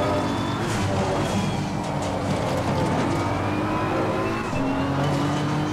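McLaren and BMW GT race cars in Assetto Corsa Competizione roar continuously at close range, engines droning and shifting pitch as they chase each other, with faint tyre noise underneath.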